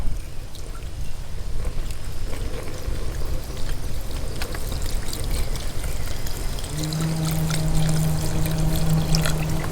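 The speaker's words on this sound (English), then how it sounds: "this is exactly 32 ounces of beef stock. So I'm gonna go ahead and add that in" Thirty-two ounces of beef stock pours steadily into a soup pot at an outdoor cooking setup, a continuous close splashing gush that runs for several seconds with no talking.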